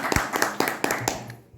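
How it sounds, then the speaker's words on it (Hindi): Audience at a seminar clapping in a quick burst, several distinct sharp claps with uneven rhythm, close and moderately loud, tapering off within about a second and a half. "एक बार जोरदार तालियां बजा दीजिए।"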